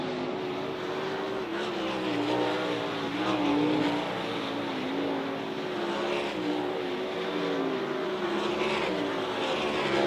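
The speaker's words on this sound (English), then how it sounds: "as we go green, the final hot lap session of the night" Sprint race cars run hot laps on the dirt oval at Outlaw Speedway, a steady droning engine roar with shifting pitch as several cars circle, continuous and moderately distant without talk.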